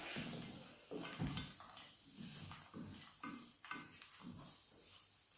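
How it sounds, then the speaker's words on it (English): Tuna being stirred into a mixture in a pan, with rhythmic scraping strokes at a steady pace over a faint sizzle, close and moderately quiet. "And then I will add the tuna to mix. And stir evenly."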